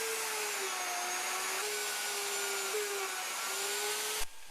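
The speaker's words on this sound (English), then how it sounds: "It bounds the router on the sides, combined with the edge guide, cuts the mortises exactly to the width" A router fitted with a sharp 1/2 inch spiral upcut bit and edge guide cuts mortises in a solid maple workbench top, a steady loud high whine running almost without break, then cutting off abruptly near the end.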